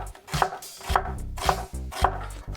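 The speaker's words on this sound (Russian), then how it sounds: "Репчатый лук нарезаем на полукольца." A knife chops onion into half rings on a cutting board in quick, regular strokes, each leaving a brief thud, close and fairly loud.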